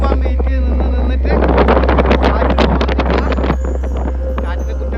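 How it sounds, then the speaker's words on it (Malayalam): Strong wind buffets a hilltop wind farm near a temple, roaring and thumping hard against the microphone in a steady blustery rush, with a voice speaking under the gusts. "കാറ്റ് കൂടുതലുള്ള സ്ഥലമാണിത്"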